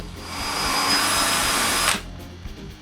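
A power drill spins up and runs with a steady, airy whine for nearly two seconds drilling a bolt hole in a masonite router base before shutting off, nearby and loud.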